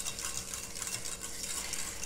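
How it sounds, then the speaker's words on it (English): A hair serum gel is stirred in a container until smooth, giving a steady, soft scraping and swishing sound with faint clinks, close up and continuous with no talking. "give that a stir until it's homogeneous"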